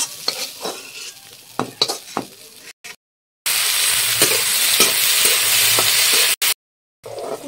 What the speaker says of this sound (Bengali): উচ্ছেগুলো আমার ভাজা হয়ে গেছে, উঠিয়ে রাখলাম।